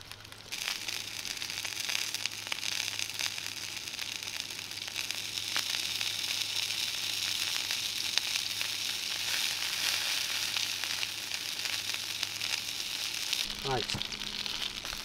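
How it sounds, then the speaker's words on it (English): Sausage fat and olive oil sizzle steadily in a pan for gravy, cooked outdoors in the woods, a bright constant hiss lasting the whole stretch with a sharp scrape near the end. "I'm going to be using the fat from the sausages and that bit of olive oil I put in"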